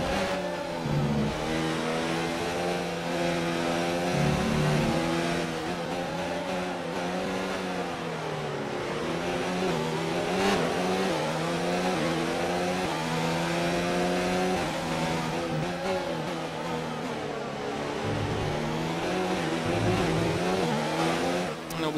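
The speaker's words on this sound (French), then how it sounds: "Vous allez laisser vivre un petit peu avec le son de ce bloc Honda." Honda Formula 1 engine in F1 2019, a sustained, loud, high-pitched whine that rises and falls through gear changes during a race lap, with no talk over it.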